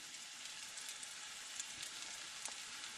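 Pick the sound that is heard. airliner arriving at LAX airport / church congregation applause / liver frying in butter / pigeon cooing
liver frying in butter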